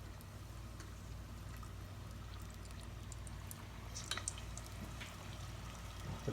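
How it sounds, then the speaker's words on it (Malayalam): Chicken pieces go into hot oil in a pressure cooker for chicken broast, giving a steady, faint sizzling hiss with a few sharper crackles and pops later on. "അപ്പോൾ എണ്ണ ചൂടായിട്ടുണ്ട് നമുക്ക് പതുക്കെ ചിക്കൻ ഇതിലേക്ക് ഇട്ട് കൊടുക്കാം"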